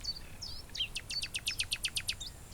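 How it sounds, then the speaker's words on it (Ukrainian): A bird calls at a distance, a few thin whistled notes followed by a quick rhythmic series of repeated chirps, faint over a quiet background. "почула цю пташку, яка зараз там вдалечі кричить"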